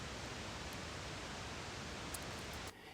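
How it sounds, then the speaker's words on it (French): Steady broadband pink noise test signal sent through an auxiliary track as a mixing reference, loud and even throughout, cutting out abruptly just before the end. "nous allons envoyer un bruit rose"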